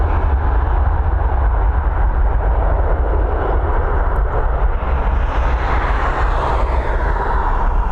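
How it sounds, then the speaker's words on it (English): Lufthansa Airbus A321, registered June 2010, departing Dublin Airport for Frankfurt: a loud, steady jet engine roar with deep rumble holds throughout without letting up. "Lufty Lufthansa now on departure. This A321, she's heading over to Frankfurt."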